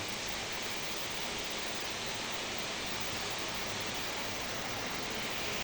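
A pot holding a broccoli dish seasoned with fish sauce and crushed pepper comes to a boil, giving a steady, even bubbling hiss with no breaks.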